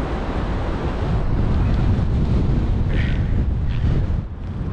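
Loud, steady wind roar buffets the microphone throughout a paragliding flight in a valley near Verbier at high altitude, a constant rushing gust with no talk.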